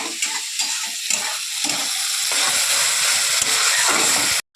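Mustard and poppy seed spice paste fries in oil for a pomfret fish curry, a close, busy sizzle broken by scraping and stirring strokes, ending with a sudden cut.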